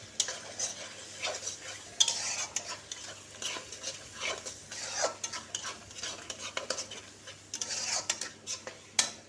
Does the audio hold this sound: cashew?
yes